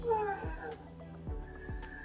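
A pet kitty cat meows a few times in quick succession, close and fairly loud, with sliding vocal cries over a steady low background hum.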